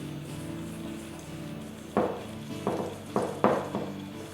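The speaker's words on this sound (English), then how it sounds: "Just keep on whisking until you achieve a creamy texture" Butter, cream cheese and sugar whisked into frosting in a bowl, a faint steady rustle followed by several sharp clinking scrapes of the whisk against the bowl, close and without talk.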